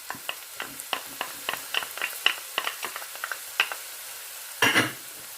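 Garlic frying in a pan for chicken curry: a soft sizzle under a series of sharp scraping stir strokes at a steady rhythm, close by, ending in a louder burst of clatter.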